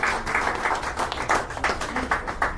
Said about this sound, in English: So if we can give a round of applause to Miss Maria.